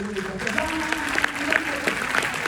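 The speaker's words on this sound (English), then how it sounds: "Y'all clap if y'all really need" A crowd claps steadily through a speech, a sustained wash of applause with a voice carrying over it throughout.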